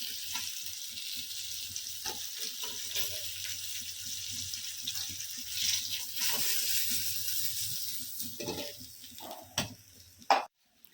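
Fish fries in oil in a pan for a home-style Bengali fish curry, giving a soft, continuous sizzle broken by occasional utensil clinks and scrapes, quiet and close, with no talking.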